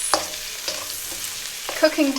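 Steady sizzling of butter and mushrooms frying in a pan, with occasional scraping stirs of a utensil breaking through the hiss.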